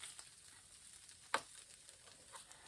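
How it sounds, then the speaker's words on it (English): Bacon frying in a pan gives a faint, steady sizzle and patter with one sharp clack partway through as a strip is turned over. "get this bacon turned over"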